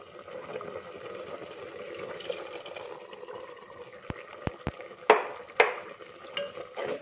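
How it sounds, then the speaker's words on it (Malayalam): A spoon stirs kalan curry with yogurt in a pan, a low continuous swishing with faint sizzle, then a few sharp knocks and clinks against the pan near the end. "നന്നായി ഇളക്കി കൊടുക്കാം."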